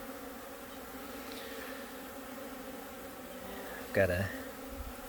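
Honey bees buzz around a beehive in winter, a steady, close, droning hum that holds throughout, with a short louder burst and brief speech near the end.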